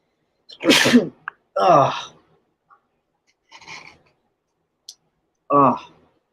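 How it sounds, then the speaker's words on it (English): A sharp, loud sneeze close by, followed by a second burst, then a few faint clicks and another short vocal burst in near silence. "Sorry, I sneezed."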